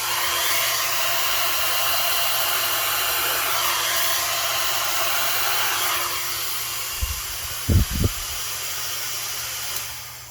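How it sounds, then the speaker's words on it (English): A small hair dryer blows in a steady, loud hiss for most of the stretch, then cuts out near the end, leaving a few faint bumps. "So with this little hair dryer, I find that you kind of have to go down and then push it out."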